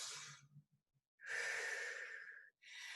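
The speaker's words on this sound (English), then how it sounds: "take a deep breath" A deep breath during a lower-body flex fitness class: a slow inhale, a pause, then a long, loud exhale, with another breath starting at the end. The breathing is close and heard alone.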